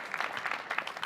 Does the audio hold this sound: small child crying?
no